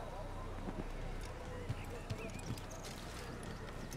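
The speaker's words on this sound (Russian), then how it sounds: "На лошади будем скакать." A horse gallops in the video game Assassin's Creed, its hooves thudding in a steady clip-clop rhythm. The hoofbeats sit under a constant ambient bed, with a voice present in the background.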